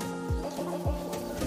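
Rare black Phoenix chickens clucking close by, two low, drawn-out clucks with a steady hum of other fowl behind them.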